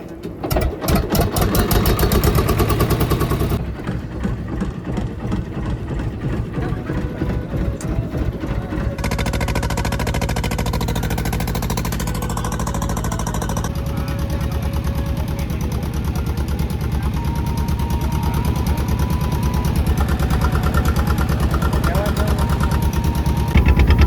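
A motor boat engine runs steadily and loudly on the crossing to Shiyalbet, an island village in the sea, with a continuous low drone and a rapid putter throughout, and a voice speaking over it.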